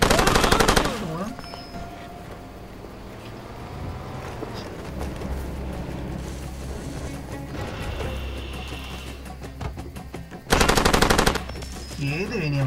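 Light machine gun fire in the video game Far Cry 2, loud rapid bursts at the start and again near the end, with quieter game ambience and faint voices between.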